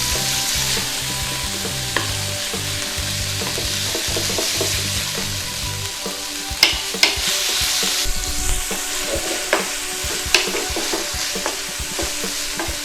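Beef being stir-fried in a hot pan for Thai pad kra pao, a steady loud sizzle with scraping and stirring knocks throughout, the spatula clatter sharpening into distinct clicks in the second half.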